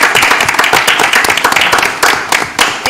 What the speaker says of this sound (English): we just should give Mark a round of applause